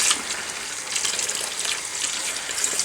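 Hot water running slowly from a faucet into a container, a steady close-up hiss and splash with no talking over it.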